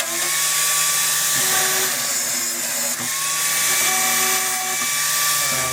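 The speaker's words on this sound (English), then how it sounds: "A flat disc to grind it down." Angle grinder fitted with a flap disc grinding metal inside a Chevrolet C10 cab, a loud, steady high-pitched whine running without pause, close up.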